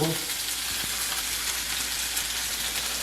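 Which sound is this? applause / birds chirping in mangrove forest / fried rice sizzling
fried rice sizzling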